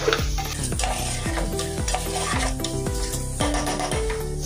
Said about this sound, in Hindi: अब इसमें हम स्वाद के अनुसार नमक डालेंगे और इसे अच्छे से मिक्स कर लेंगे